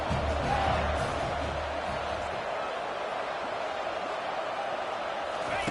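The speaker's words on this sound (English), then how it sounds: "They are on their feet, yelling, screaming." A college football crowd at an Alabama game roars in a dense, sustained wash of yelling and screaming that stays loud and constant throughout, with no clear voices standing out.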